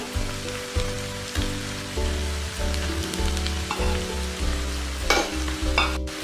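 Ginger garlic paste frying in a pan for street-style egg curry, a steady close sizzle with intermittent stirring scrapes throughout, no voices.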